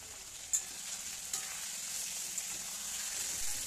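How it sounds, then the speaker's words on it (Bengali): Chicken pieces fry in spices over a high flame, giving a close, steady sizzle with a couple of quick stirring knocks in a short burst. "চিকেনগুলো মশলার মধ্যে দেওয়ার পরে ভালো করে হাই ফ্লেমে আমি একটু ভেজে নেব কড়া করে।"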